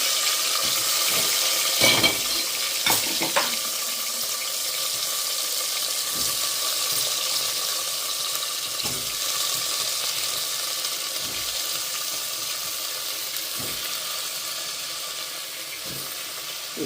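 Chopped tomatoes frying in about fifty grams of oil in a pan, giving a steady continuous sizzle with occasional clinks and stirring sounds, alone with no talk.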